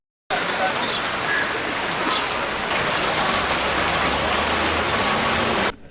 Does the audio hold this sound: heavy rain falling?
yes